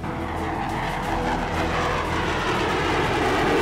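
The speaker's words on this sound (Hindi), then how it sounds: "ये सुरमई रंग का विमान इसराइल का F-15 फाइटर जेट है, दुनिया के सबसे खतरनाक फाइटर जेट में से एक।" An Israeli F-15 fighter jet roars steadily in a broad, loud rushing sweep that builds slightly toward the end, with no voices.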